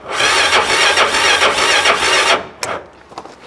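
A car engine cranks on a revived frozen battery in the cold, a rapid rhythmic churning for about two seconds that stops abruptly, followed by a few faint clicks.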